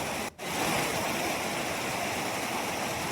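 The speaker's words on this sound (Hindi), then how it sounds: "जिससे पानी जो है वो तेज़ रफ्तार से बह रहा है।" Floodwater rushing fast after heavy rain makes a loud, continuous roar of churning water, broken only by a very brief dip near the start.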